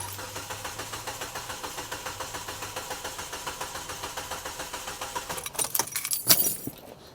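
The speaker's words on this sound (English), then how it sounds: "start the car and run it until the fuel in the fuel line runs out" A Hyundai Elantra engine idles with a steady, even pulsing throb, close and moderately loud, then a few sharp metallic clinks and rattles break in near the end.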